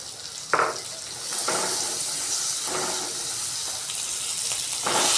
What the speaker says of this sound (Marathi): बटर मेल्ट झालं आहे, त्याच्यामध्ये टाकते कांदा